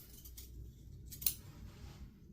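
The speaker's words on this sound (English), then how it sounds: "we are going to cut off just the material, not the zipper" Scissors snipping through fabric seam allowance beside a zipper while sewing a bag, a few quiet close crisp snips with one sharper cut in the middle.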